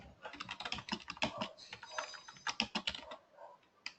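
Fast, continuous typing on a computer keyboard, a close rattle of many key presses with uneven rhythm, with no speech over it.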